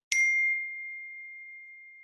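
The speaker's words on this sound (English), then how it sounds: "I turned my phone off. I don't know why it's still dinging here." A single bright phone notification ding rings out clearly and decays slowly over two seconds, alone with no talk around it.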